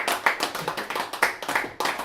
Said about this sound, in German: Schau, der Applaus kommt